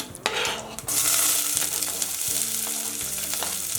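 Chopped vegetables drop into a hot pot of oil already holding fenugreek, cumin, dried red chillies and curry leaves, bursting into loud steady sizzling with a few scraping stirs and pan knocks.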